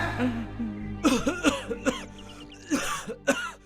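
A person coughs repeatedly in a series of harsh, close-up bursts with some throat clearing, in irregular clusters.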